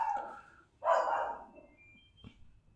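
A pet dog lets out two short barks indoors, somewhat muffled and moderately loud, followed by a faint softer yip, with no talk over them.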